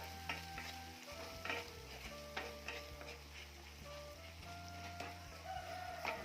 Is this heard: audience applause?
no